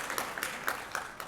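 Graduates at a chemical and biomolecular engineering graduation ceremony clap briefly, a faint scatter of hand claps heard from a distance in a hall.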